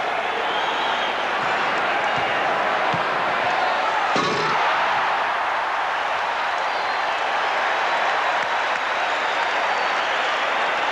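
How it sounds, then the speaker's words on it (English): Michael Jordan's slam dunk at the 1988 Slam Dunk Contest semifinals brings a dense, roaring home crowd that cheers and applauds steadily. A single sharp slam near the middle stands out briefly above the sustained noise. "Michael Jordan with the second of his 3 dunks in the semifinals"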